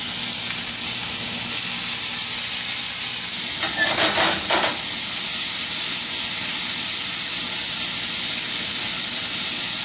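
Onions dropped into a hot, smoking pan give a brief sizzling burst lasting about a second, standing out from a steady background hiss, with no voices.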